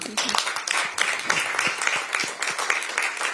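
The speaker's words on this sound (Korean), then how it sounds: "그동안 고생하셨으니까 박수 한번 부탁드립니다" A room full of people at a Democratic Party supreme council meeting applauds, with dense, steady clapping and a few sharper individual claps standing out.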